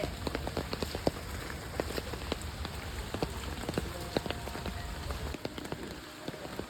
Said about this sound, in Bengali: কত জল, এত বৃষ্টি হচ্ছে।